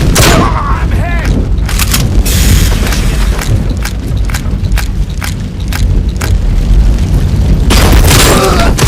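Heavy gunfire in RoboCop: Rogue City, loud booming shots in rapid succession with deep impacts, continuing through the whole stretch with a few voices speaking over it.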